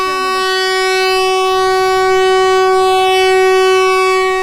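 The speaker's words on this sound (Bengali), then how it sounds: "নির্দিষ্ট সময়ে কিন্তু ছেড়ে যাচ্ছে আমাদের নারায়ণগঞ্জ কমিউটার ট্রেনটি শহরতলির চোদ্দ নং প্ল্যাটফর্ম থেকে" The horn of an old locomotive hauling the Narayanganj commuter train sounds as it departs a suburban platform, a loud sustained chord-like blast held steady and close for several seconds.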